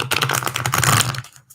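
Tarot cards shuffled briskly in the hands, a dense run of papery riffling and flicking that stops abruptly near the end, close and fairly loud with no talking.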